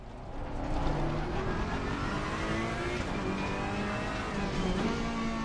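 Race cars, a Ferrari and a BMW among them, roaring around a track in a racing video game: a steady, loud engine drone with shifting pitch as the cars accelerate, with no talking.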